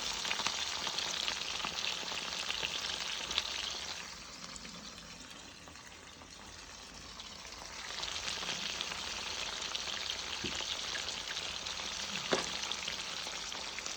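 Spiced, salted hilsa fish wrapped in leaves frying in hot oil, a steady close sizzle that softens briefly midway before surging back, with a few sharp pops near the end and no voices.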